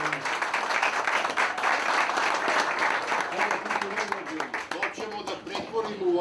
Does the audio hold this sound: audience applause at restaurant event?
yes